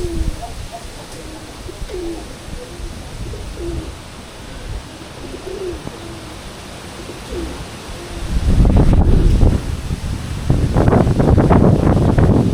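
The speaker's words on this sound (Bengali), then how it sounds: "বাতাসের আওয়াজ।" Kalbaishakhi storm wind sweeps through a village. Doves coo softly at first, then a loud, rushing roar of gusts builds and buffets the microphone for the last few seconds.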